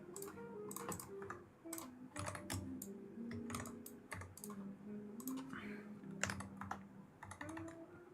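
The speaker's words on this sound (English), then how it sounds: "New Keychron keyboard." Typing on a new Keychron mechanical keyboard: a steady run of crisp, close key clicks in uneven bursts, with a low background hum and music underneath.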